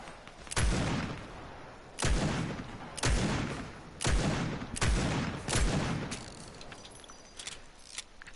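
Heavy-recoil gunfire in the Overwatch game: about six loud, widely spaced single shots, each a sharp crack with a decaying tail, followed by a few fainter clicks, no speech.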